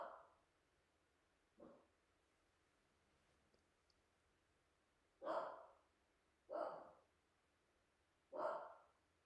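A dog barks in the background indoors: a handful of short, separate barks spaced a second or more apart, faint and distant against a quiet room, with no talking.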